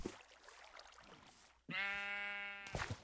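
Blocky Minecraft sheep lets out a single long, loud bleat with a steady wavering tone, close by, after a quieter stretch of background game noise.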